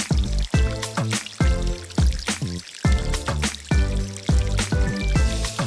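Water is poured into a cardboard aquarium in repeated short bursts, splashing and trickling with a rhythmic glugging pattern, close and fairly quiet.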